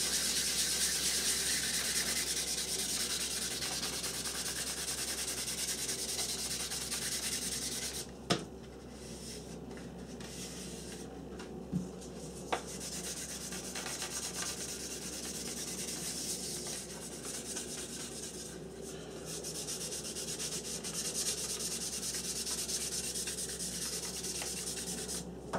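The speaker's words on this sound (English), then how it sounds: "Back to this coarse sanding sponge again." A coarse sanding sponge scrubs over a He 219 model aircraft wing, a long steady close-up abrasive rasp broken by a few small taps and clicks, with no talking.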